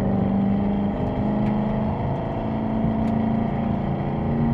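Engine of a 636-horsepower Hennessey Z/28 Camaro pulling hard in a higher gear, a steady low rumbling drone heard from inside the car, loud and continuous with no talk.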